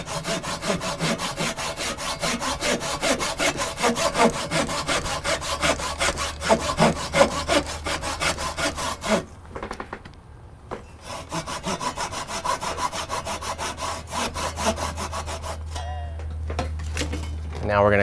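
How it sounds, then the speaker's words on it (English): A small pull saw cutting wood for a self bow shelf, with steady rhythmic rasping strokes up close, a brief pause partway through, then more sawing. "I'm just going to go ahead and take a little pull saw, cut down just little ways"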